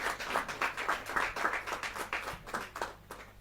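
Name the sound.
audience applause at a Hindi poetry gathering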